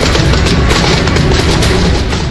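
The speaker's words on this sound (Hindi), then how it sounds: "दोनों ही तरफ से जारी ताबड़तोड़ फायरिंग।" Heavy gunfire and explosions in close combat between Chechen forces and Ukrainian troops in Mariupol, a loud dense continuous battering of overlapping bursts and booms with no talk.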